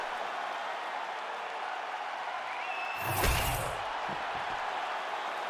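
A crowd roars at a UFC video game fight, shown as a steady arena murmur that swells into a brief loud burst of cheering and impact before settling back.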